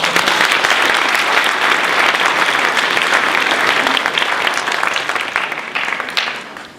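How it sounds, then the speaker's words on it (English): Sustained applause from an audience at an MLK event ceremony, a dense wash of clapping that holds steady for several seconds before starting to thin out near the end. "Please give them a round of applause"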